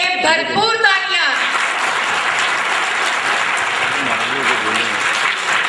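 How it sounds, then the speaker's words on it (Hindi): Audience at a cadet school event gives loud, sustained applause for the children, steady dense clapping filling the space after a brief voice at the start. "इन बच्चों के लिए भरपूर तालियां।"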